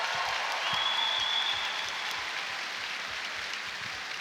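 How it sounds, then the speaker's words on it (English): Steady, dense applause from a large crowd at a British swimming event, celebrating a British swimmer's gold. It holds evenly for the whole stretch with no voices over it. "Give him a round of applause"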